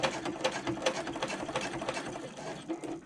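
A sewing machine stitches fabric panels for a garment, a fast, even mechanical whir with rhythmic needle pulses running steadily and close up.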